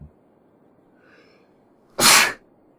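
A single sharp, loud sneeze bursts out close by after a faint intake of breath, set against an otherwise quiet room.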